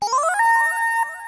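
A bright, twinkling synth tone made in Serum with quick rising and falling notes that settle into a sustained ringing pitch, then fade slightly; no voices.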